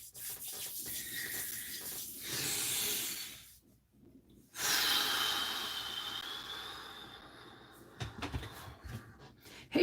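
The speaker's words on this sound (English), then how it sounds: "So, nice deep breath" Slow, deep breaths taken during a guided prayer: long airy inhales and exhales drawn close to the microphone, separated by quiet gaps, with a few soft knocks near the end.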